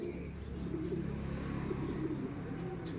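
Several racing pigeons arriving at once, cooing and fluttering close by over a steady low rumble of background noise, with a brief high chirp near the end.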